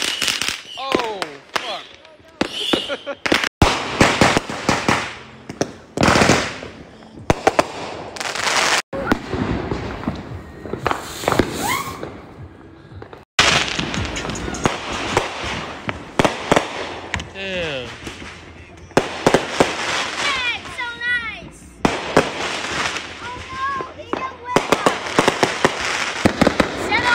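Fireworks called Breath of Fire go off at a Fourth of July gathering, a long run of loud popping bursts and crackling blasts close by, with people shouting and talking excitedly throughout.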